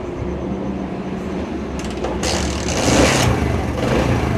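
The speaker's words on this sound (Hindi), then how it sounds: "तो ये देखें दोस्तों, हमारा मोटरसाइकिल स्टार्ट हो गया है" A motorcycle, just fixed after a faulty spark plug, starts and runs with a rough, steady engine drone up close, rising a little in loudness partway through.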